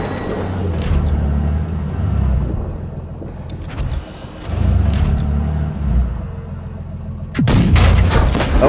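Tank cannon fire and heavy engine rumble fill a World of Tanks Blitz battle, with booming shots and low thuds over a steady loud drone, ending in a sharper, brighter blast.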